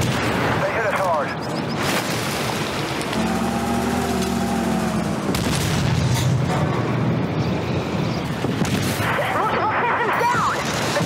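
A tank battle in War Thunder, running on an R9 Nano graphics card, brings dense, continuous rumbling engine noise with repeated crashing explosions and gunfire, loud throughout, with a voice speaking over part of the fighting.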